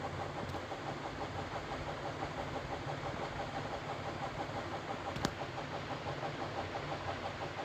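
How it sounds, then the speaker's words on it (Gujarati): A motorbike rides out through a village, its engine running with a steady low drone and a faint repeating pulse, close and continuous throughout. "બાઇક લઈને નીકળી ગયા છીએ"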